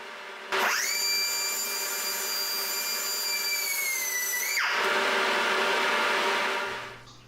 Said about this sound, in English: I'm going to be using a pneumatic rotary tool for cutting